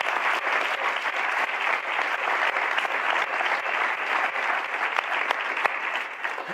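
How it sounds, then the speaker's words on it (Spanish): A seated audience at a talk applauds Sara García with sustained, even clapping, dense and fairly loud from start to finish with no speech. "Un aplauso a Sara, por favor."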